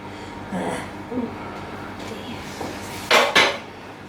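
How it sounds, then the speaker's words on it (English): Spatula scraping and knocking against a bowl while flour is folded into chocolate beetroot brownie batter, with soft intermittent stirring sounds and two louder clatters near the end. "I'm just going to mix the rest of this flour in."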